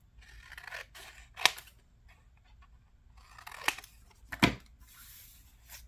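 Scissors trimming paper for a craft booklet: a few sharp snips over a low, steady room hum, close and fairly quiet.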